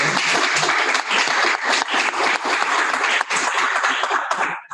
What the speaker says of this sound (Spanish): yo creo que por lo menos los que estamos aquí podemos darle un aplauso a nosotros